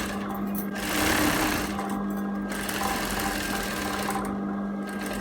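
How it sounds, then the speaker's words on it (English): A sewing machine running a loose tension stitch on a dress hums steadily and fairly close, a continuous whirring buzz that surges briefly and then carries on evenly with no pauses. "I'm going to change the tension on my machine to a loose stitch and just continue that all the way to the neckline"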